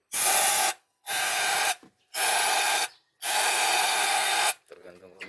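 Cleaner is sprayed from an aerosol can into the spark plug hole and combustion chamber of a BMW E36 320i M52 B20 engine during a tune-up: four loud close hissing bursts separated by short pauses.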